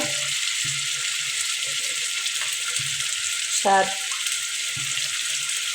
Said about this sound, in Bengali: এখন এগুলো ভালোভাবে কষিয়ে নিতেছি। ভালোভাবে নেড়েছে দিয়ে কষিয়ে নিতেছি।